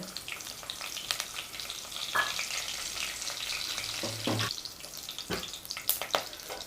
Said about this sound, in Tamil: இப்போ லவங்கம் வெடிக்க ஆரம்பிச்சது